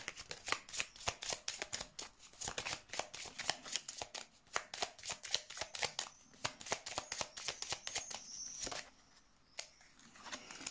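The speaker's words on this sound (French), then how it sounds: "Mettre des cartes sur cette croix." Tarot or oracle cards handled and laid out in a cross spread, a close, quiet run of rapid riffling flicks and soft slaps that continues steadily before easing off near the end.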